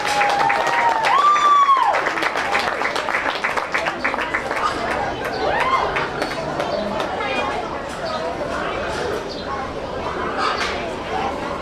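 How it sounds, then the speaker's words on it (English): A crowd at a county fair swine show applauds in the show arena, with a steady wash of dense clapping that runs throughout, mixed with background chatter and a brief high whistle near the start. "Let's give this young man a big round of applause."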